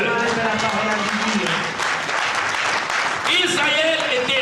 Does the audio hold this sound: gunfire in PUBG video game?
no